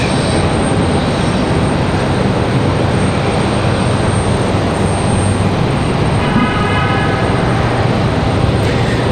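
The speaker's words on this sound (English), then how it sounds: "We've got Delta 1656 coming in from Los Angeles, 4 hours, 32 minutes of flight time for the 737-900." A Delta Boeing 737-900 jet arriving at Raleigh-Durham airport roars loudly and steadily in a broad, continuous rush of engine noise, with a brief higher whine near the end.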